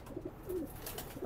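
Soft, low pigeon coos repeat a few times against a faint background hiss, fairly distant and quiet.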